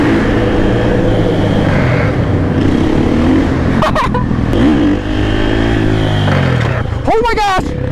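Supermoto motorcycle riding through a city at night, the engine droning and revving close with wind rush, someone talking over it loudly throughout.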